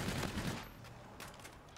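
Gunfire in the video game Call of Duty: Infinite Warfare, a rapid burst of shots from an M4 rifle in a firefight, loud at first and then trailing off into quieter scattered shots.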